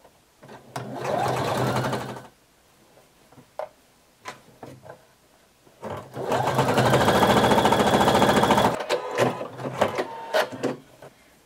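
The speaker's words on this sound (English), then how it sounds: "You're going to sew all the way around, and you're going to pull in between your pins as you're sewing." Home sewing machine stitching elastic onto a swimsuit runs in two steady whirring bursts, a short one then a longer one, with quiet handling clicks and pauses in between.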